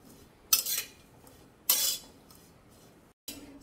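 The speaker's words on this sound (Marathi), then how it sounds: "तर आता मी सुकं खोबरं हे मीडियम फ्लेमवर भाजून घेते" Dry coconut roasting over a medium flame in a kadhai, heard as a few sharp metallic clinks and scrapes of a spatula against the pan, spaced apart with quiet gaps between them.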